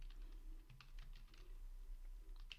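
Code typed on a computer keyboard: quiet, steady clicking keystrokes close by with no talking.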